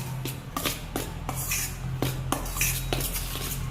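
Peanut fritter batter with spices being mixed by hand in a bowl, a steady series of soft, rhythmic slaps and clinks about every half second, close and moderately loud with a low background hum.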